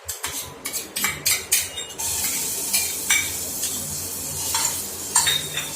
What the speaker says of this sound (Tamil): ஆயில் சூடானதுக்கப்புறம் நம்ம அரைச்சி வச்சிருக்க பேஸ்ட்டை இதில் சேர்த்துடலாம்